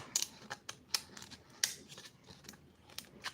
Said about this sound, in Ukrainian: можна ось такими ножицями збільшити ось цей отвір